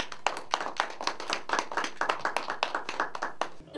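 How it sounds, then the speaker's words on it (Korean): An audience claps to welcome a former ambassador to the lectern at a forum lecture, a moderately close round of distinct, fairly regular hand claps that thins out and stops near the end. "여러분 앞으로 모실 때에 큰 박수로 환영해 주시기를 바랍니다"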